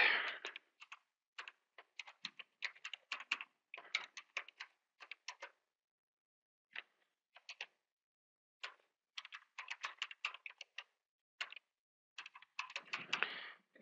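Bursts of key presses on a computer keyboard come in uneven runs with short pauses between them, close and fairly quiet, with no talking.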